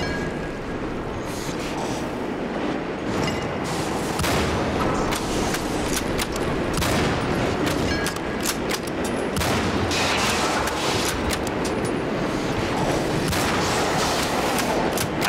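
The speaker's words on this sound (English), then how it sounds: "I am shooting him in the face" Rapid gunfire in Cryostasis: Sleep of Reason crackles in dense overlapping bursts, loud and sustained from start to finish over a rumbling backdrop.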